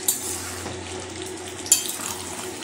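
Shahi mutton being fried down and stirred in a pan, a soft steady sizzle with two sharp scrapes or clinks of the spoon against the pan, close and quiet, no voices.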